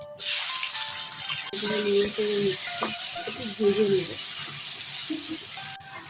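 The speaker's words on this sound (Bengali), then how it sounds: "এখন কেটে রাখা আলু আর পটলটা আমি দিয়ে দিচ্ছি" Cut potato and pointed gourd go into hot oil after the tempering spices, raising a bright, steady sizzle with occasional stirring clatter, while a person talks intermittently over the frying.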